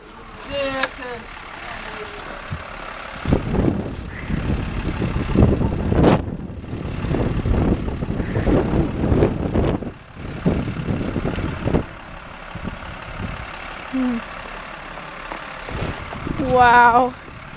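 A tow truck's engine rumbles low and steadily on a snowy Chicago street during the 2011 blizzard, with scraping and clunking noises on top and people talking over it throughout.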